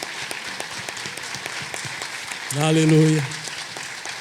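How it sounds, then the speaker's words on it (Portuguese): Congregation applauding in a church, a steady wash of clapping that carries a voice through the clip, with a sung or shouted phrase rising loudly over it midway. "Vamos aplaudir ao Senhor"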